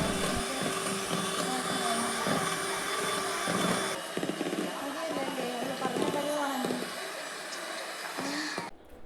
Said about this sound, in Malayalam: ഇനി നന്നായി ബീറ്റ് ചെയ്തെടുക്കാം.